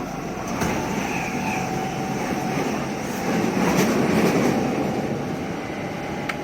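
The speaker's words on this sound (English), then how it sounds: "Let's play the train." A train ride in Japan, played back from a recording, gives a steady rumble of a rail car in motion that swells louder midway with faint clicks of wheels on rails. No one speaks.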